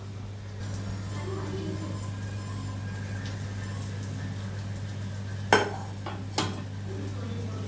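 An eggless vattalappam made with curd is moved onto another plate, giving two brief clinks of dish and utensil over a steady kitchen hum.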